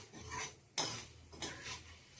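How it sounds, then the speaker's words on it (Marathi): A spoon scrapes and stirs fenugreek seeds frying in oil in a pan for mango pickle, with a few soft, close strokes and no talking. "म्हणून न करपवता अशी छानपैकी परतून घ्यायची."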